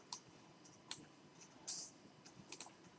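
A computer mouse clicks while photos are saved: a few sharp, quiet, close clicks spaced irregularly against a near-silent room.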